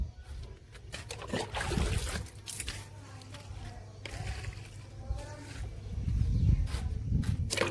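Water is poured over garden plants, a loose splashing trickle that comes in uneven bursts and swells louder toward the end, close by with no talk.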